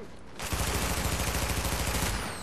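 Gunfire in the Dark Zone of The Division, a rapid sustained burst of automatic shots that starts sharply after a brief lull and keeps a steady pounding rhythm, loud and close, with no talk over it.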